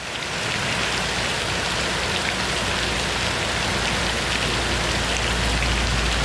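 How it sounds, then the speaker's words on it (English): Heavy rain pours steadily onto surfaces at a roadside dhaba in Madhya Pradesh, a loud continuous hiss of rainfall close by with no voices. "So as you can see, it's pouring rain now."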